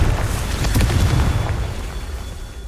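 The Confringo blasting curse in Hogwarts Legacy goes off as a loud, rumbling explosion with a sharp crackling burst near the start, then a deep roar that slowly fades.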